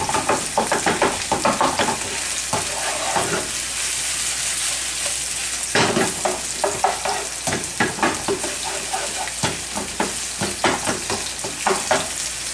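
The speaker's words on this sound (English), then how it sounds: "Onions take a little bit to saute, so give it about roughly a minute and a half." Thinly sliced onions sauté in a pan with a continuous close sizzle, broken by repeated scraping stir strokes at an uneven rhythm, with no talking.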